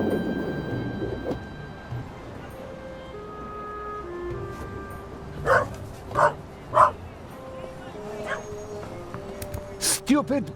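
A dog gives a series of sharp barks and yips, three quick ones in a row midway and a couple more near the end, under and between voices in a busy animated scene.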